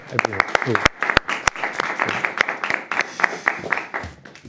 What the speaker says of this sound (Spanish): Que entre, por favor, un aplauso.